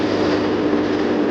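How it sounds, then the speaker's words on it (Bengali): A metro train pulls into an elevated station, giving a steady, loud rumble of wheels and motors that holds at an even level for the whole moment, with no voices. "অবশেষে আমাদের ট্রেন আসলো।"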